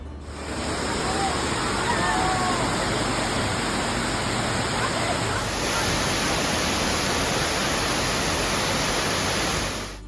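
Gooseberry Falls on Minnesota's North Shore roars as a steady, broadband wash of falling water, continuous and fairly loud throughout, with faint high tones and possible distant voices underneath.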